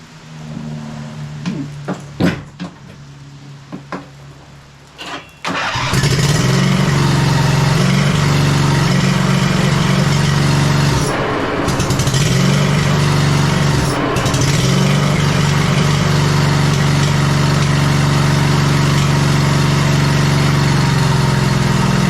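A 2005 Husqvarna YTH2448 ride-on lawn mower engine starts after a few seconds of clicks and clatter, then runs at a loud, steady idle close by, with a couple of brief dips in its drone.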